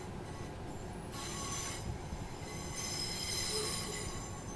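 Steel train wheels squeal steadily and loudly in a simulated East Coast Main Line rail scene, a continuous high metallic screech over rumbling running noise that swells twice.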